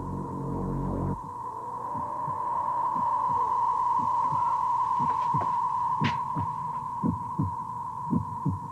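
Heartbeat-like drumming in a 1978 Saturday morning TV program, a steady series of low thuds repeating about twice a second under a constant high electronic hum.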